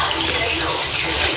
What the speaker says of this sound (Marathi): त्यातलं पाणी अलग काढायचं आणि फणसही अलग काढायचं